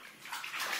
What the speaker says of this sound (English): Phoenix, don't splash his face, honey.